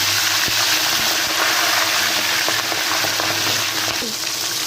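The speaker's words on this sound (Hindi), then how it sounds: "इसी तरीके से हम सारा चरखा अपना फ्राई कर लेंगे।" Lahori chicken chargha frying in ghee, a loud continuous sizzle and bubbling close up, with faint clinks and stirring under a dense crackling hiss, no talk.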